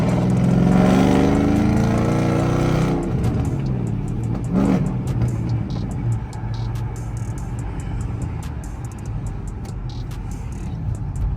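Chrysler 300C AWD Hemi accelerating hard at night, a loud engine roar in the opening seconds that settles into steady driving drone, with the cold air intake's whistle riding over the engine.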